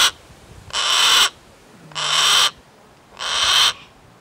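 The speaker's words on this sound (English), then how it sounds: "Yeah, they're squawking away over there." Falconry birds of prey, social raptors such as Harris hawks, give three loud harsh squawking calls about a second apart, close by and alone with no voices.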